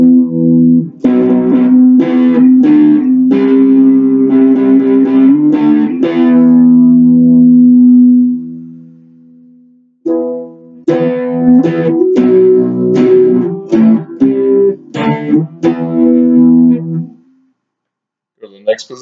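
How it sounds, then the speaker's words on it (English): A Carvin Jason Becker JB24 electric guitar plays through distortion on the neck pickup. It gives thick, sustained chords and riffs in two loud phrases, with a gap of ringing decay between them and no talking. "Go ahead and start with some distortion here on the"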